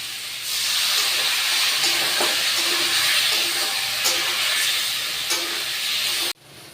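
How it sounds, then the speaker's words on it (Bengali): Potatoes sautéing in a pan with a splash of water for a Bengali duck egg and dried fish curry, giving a steady, loud sizzle and hiss that runs almost the whole way before cutting off abruptly. "আলুটা দিয়ে কষিয়ে নেবো। একটু অল্প জল দেবো।"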